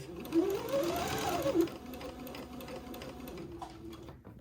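A sewing machine runs a straight stitch on old-fashioned baby clothes, attaching a cuff edging to a sleeve, with a steady close-up mechanical whir and rhythmic needle clatter that slows and fades toward the end, without any voice.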